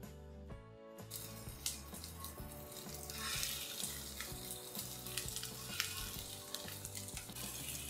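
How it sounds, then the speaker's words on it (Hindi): Gola kebabs shallow-fry in a little oil in a hot pan over a low flame, a close, steady sizzle and crackle running throughout with no talking. "हल्के से ऑयल में हमें इसे फ्राई करने हैं।"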